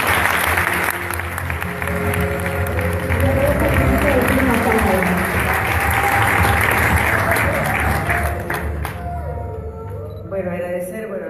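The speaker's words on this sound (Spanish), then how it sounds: "¡Fuerte aplauso!" Loud, dense applause from an audience at a charity awards event, sustained and steady with voices and cheering mixed in, then thinning toward the end.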